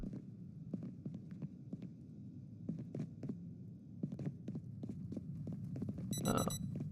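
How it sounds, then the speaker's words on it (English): A ringing alarm clock in the survival game Project Zomboid, a short metallic burst near the end over a steady low hum and scattered soft thumps. "Oh, that's my alarm."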